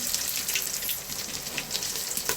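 Dried red chillies and garlic hitting hot oil for sambar, crackling and sizzling steadily up close with small popping spikes, no talking over it.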